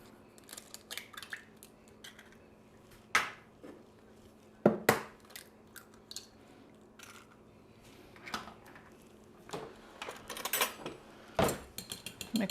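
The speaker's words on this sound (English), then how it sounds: "now we're going to mix our wet ingredients" Melted butter and two eggs are whisked together in a bowl for a keto pumpkin cake, giving close, irregular clinks and scrapes with a few louder knocks spread through the mixing.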